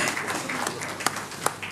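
Applause from a lecture audience in a hall, a dense, steady wash of clapping with a couple of sharper individual claps standing out, moderately loud and continuous.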